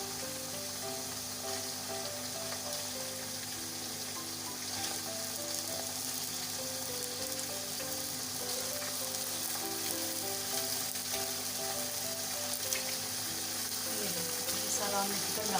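Chicken pieces fry in a pan for biryani, giving a steady, close sizzle that runs unbroken throughout, with faint background voices and the occasional stir.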